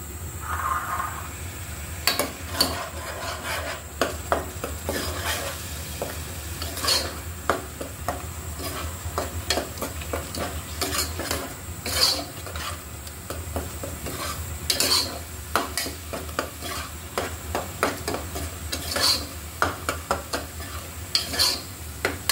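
Spice masala being sautéed in a pan for Barishal-style prawn jolbora, with repeated scraping and tapping strokes of a spatula against the pan over a low sizzle, close and intermittent.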